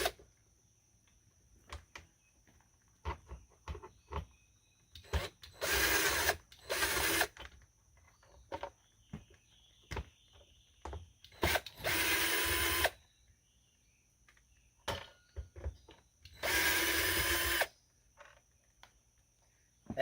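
A power drill whirs in several short bursts to back out the four screws holding the power unit and spinner on a deer feeder, with clicks and handling knocks between runs, close and without talk.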